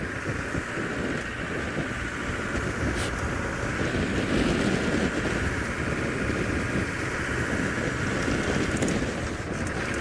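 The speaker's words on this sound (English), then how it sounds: "It's a bit windy here" Steady wind blowing outdoors on an African safari drive, a continuous broadband rush that stays loud for the whole stretch with no talk over it.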